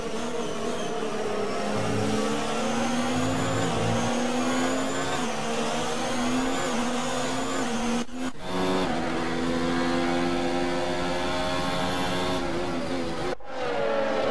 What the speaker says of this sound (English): just quickly listen to how beautiful these cars sound